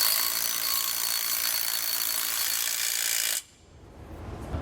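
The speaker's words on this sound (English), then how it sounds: "now we want to come back with a 9/16 socket and snug them down, tighten them down" A power tool with a 9/16 socket runs steadily with a loud, even, high whir while it snugs bolts down, then cuts out sharply and leaves a quieter background. No one speaks.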